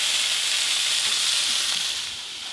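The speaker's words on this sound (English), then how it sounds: "I'm just going to saute those until they soften" Mushrooms sauté in a hot pan with a steady, close, bright sizzle that runs alone and eases off slightly near the end.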